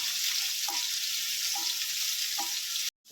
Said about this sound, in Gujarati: મોટી ડુંગળી નાખશું આપણે. થોડી કરીને કરવા દઈશું, બ્રાઉન ના થાય ત્યાં સુધી.